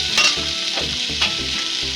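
Whole spices frying in a pan for ghugni, a Bengali street-style pea curry, with a steady close sizzle and soft scraping stirs breaking in at a few points, and no voices.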